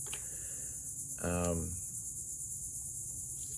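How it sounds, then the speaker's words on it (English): Crickets or other insects chirp in a continuous high, thin trill from the surroundings. A short burst of voice sounds briefly over it midway. "I turned my fan off, so here come the bugs."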